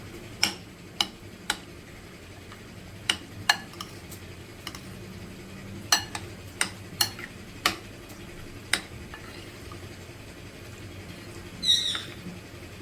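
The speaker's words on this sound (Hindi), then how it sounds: "इसको करेंगे मिक्स।" A spoon scrapes and taps against a bowl as chickpeas are mixed with potato chutney for chana chaat, giving a dozen or so sharp, irregular clicks spaced over a quiet background with no talking.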